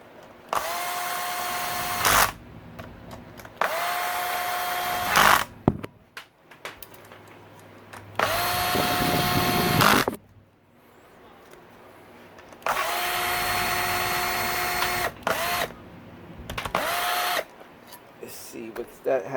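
Cordless power tool snugging down bolts on a Honda CRF250R engine top end, heard as several loud whirring bursts of a few seconds each with brief pauses between, close by, with a voice speaking during the gaps.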